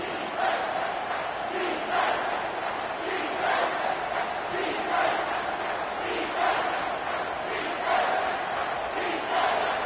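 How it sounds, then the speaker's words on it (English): Dense, sustained roar of a football stadium crowd during a Georgia vs. Alabama game on a third down, a steady wall of massed voices with rhythmic swells of chanting, loud and continuous. "this crowd will blow out a vocal cord to help this defense"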